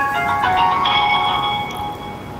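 A telephone rings for a call, a bright electronic ringtone with a repeating melodic pattern that is loud and close, fading slightly toward the end, with no talking.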